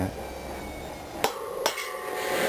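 Two sharp hammer taps on metal ring out about half a second apart during a wheel bearing replacement, each a bright metallic clink over a quiet background hum.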